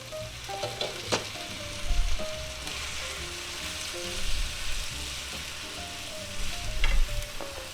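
Cabbage and vegetables, with eggs and ham, sizzle and fry in a pan as they are stirred, a steady close crackle broken by a few louder scraping stir strokes.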